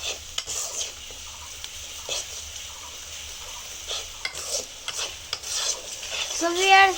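Turmeric being stirred into a fish curry in a pan, with soft scraping and clinks of a spoon over a faint sizzle and a louder burst near the end.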